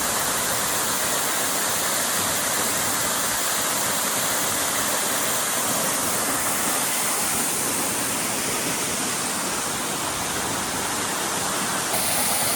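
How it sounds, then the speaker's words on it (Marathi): A monsoon waterfall at Malshej Ghat roars as a loud, steady, broadband rush of falling water, continuous and unbroken throughout, heard close with no voices. "केवढा वॉटरफॉल आहे."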